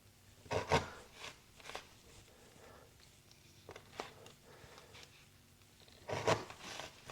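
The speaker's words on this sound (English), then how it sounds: "It almost sounds like it's sawing through that denim." A Vosteed Acorn pocket knife slices through a rolled piece of denim, giving a few rasping, sawing strokes of fabric fibres tearing, close and fairly quiet, with short loud bursts between softer rubbing passes.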